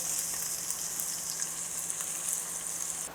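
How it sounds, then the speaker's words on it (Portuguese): Onion fries in olive oil in a pan, giving a steady, close, bright sizzle that crackles lightly all the way through with no voices. "Olha o barulhinho da cebola."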